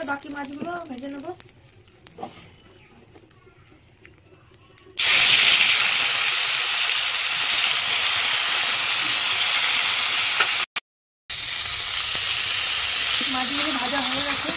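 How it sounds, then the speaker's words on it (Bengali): Tengra fish frying in hot oil bursts into a loud, continuous sizzle after a quieter stretch of kitchen noise and talk, with a brief dropout near the end and voices returning faintly. "এই তেলে বাকি মাছগুলো ভেজে নেবো।"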